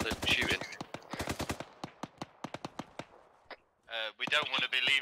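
Automatic gunfire in the military shooter Arma 3 rattles in rapid bursts, then thins to scattered single shots, loud and close, with a voice speaking at the end.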